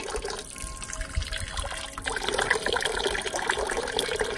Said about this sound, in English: the water fountains here are coming straight from the mountains